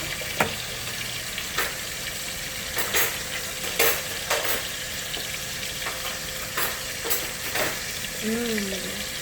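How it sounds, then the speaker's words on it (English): Pieces of rice fry in bubbling hot oil for Puerto Rican rice, giving a steady close sizzle broken by sharp periodic stirring clicks and scrapes, with faint voices briefly audible near the end. "Now that my oil is bubbling, you see that it's heated."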